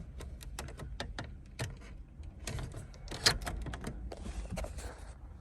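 A radio removal tool pushed into the dash of a Ford Ranger to release a single-DIN radio, with faint scattered clicks and plastic taps and one sharper click, quiet and close, without talk.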